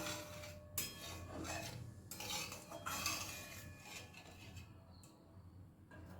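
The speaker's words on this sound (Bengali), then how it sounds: "ভালো করে জলের সাথে মশলাটা একটু মিশিয়ে নেব" Spice paste being stirred with a little water in a pan for a hilsa fish curry, soft scraping and clinking of a spoon against the metal pan in irregular strokes, fairly quiet and close.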